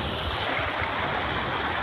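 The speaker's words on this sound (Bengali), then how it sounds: "পানির খুব স্রোত" Strong flood-water current rushes in a dense, constant roar, close and unbroken, in a haor wetland during new-water season.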